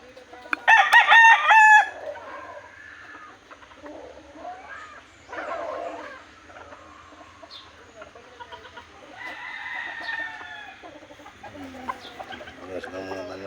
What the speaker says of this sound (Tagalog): Lawag tang manok kabakyard.